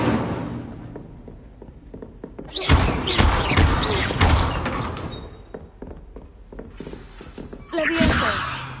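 A fire spell is cast in a Hogwarts video game: two forceful whooshing bursts, the second shorter, rise over a quieter background of soft thuds, with a voice heard between them.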